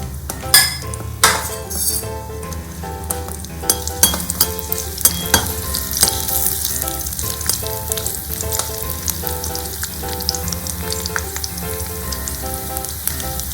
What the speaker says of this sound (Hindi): उसमें 1 टेबलस्पून ऑयल डाल दें। 1 टीस्पून गार्लिक डालें चॉप्ड,